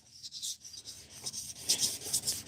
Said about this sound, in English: I'm going to keep on sanding, see if I can get it to come out.